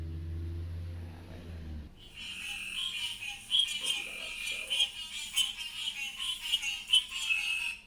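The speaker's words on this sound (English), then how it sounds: "And it had just rained. And so we heard frogs." Frogs croaking outdoors after rain, captured on a phone voice memo: a dense, continuous chorus of chirping calls in the distance, with a brief voice at the very start before the chorus takes over.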